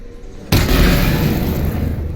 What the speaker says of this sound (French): Explosion en chaîne.